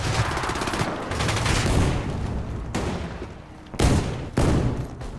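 SMG bursts in a video game, loud rapid automatic fire in several bursts broken by short gaps, with sharper cracks toward the end.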